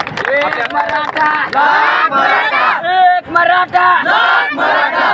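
A crowd at an election rally roars and chants together in loud, sustained bursts of raised voices with brief dips between them, close and dense rather than scattered clapping.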